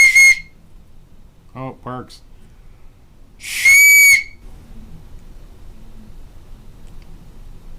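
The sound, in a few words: 3D-printed whistle being blown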